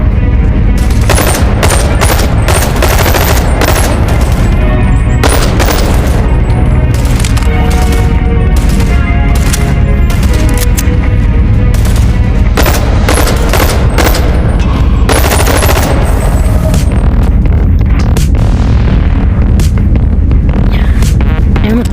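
Rapid gunfire from the VR shooter Bonelab, loud bursts and single shots crackling almost continuously, with heavy booms and some talk in the background.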